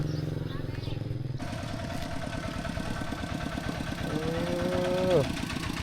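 A tractor engine runs steadily in a rural village setting, a chugging mid-pitched idle with a pulsing rhythm that briefly revs louder near the end, with voices talking nearby.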